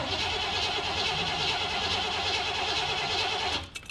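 A cold van engine cranks and runs steadily up close, loud and continuous for several seconds before cutting out near the end, fuel pump primed and accelerator pumped beforehand.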